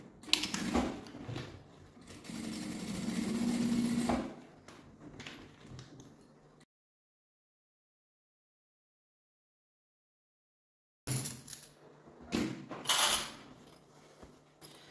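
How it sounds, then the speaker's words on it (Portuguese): A sewing machine with a presser foot stitching a seam on a fabric sling backpack, with bursts of close mechanical whirring and clicking, a long silent gap, then more short runs of stitching. "E agora a gente vai passar costura aqui, ó, com um pé de máquina."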